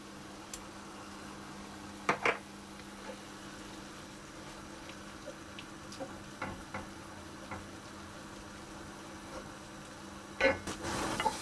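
Tomatoes and tomato paste cooking in a pan for ratatouille, a soft steady sizzle under a few scattered utensil knocks and stirring scrapes, quiet and close, with no voices.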